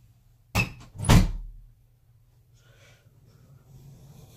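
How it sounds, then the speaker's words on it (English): A house door swung shut with a sharp latch click followed by a heavier thud, close by, then a quiet room with faint rustling afterward and no talking. "I just wanted to shut the door."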